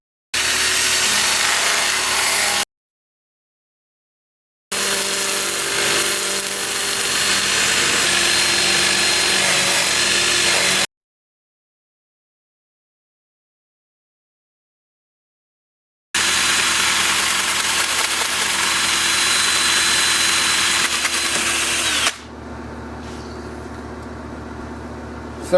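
Steady, loud mechanical whirring and abrasive hiss from sandpaper on a cherry limb bowl, bark left on, spinning on a wood lathe, broken by two long silent gaps, then a quieter running tail.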